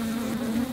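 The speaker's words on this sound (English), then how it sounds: "these bees are pretty aggressive and they've never really responded to smoking very well" Aggressive bees buzz in a steady, faint drone, a continuous hum holding one pitch with no other sounds.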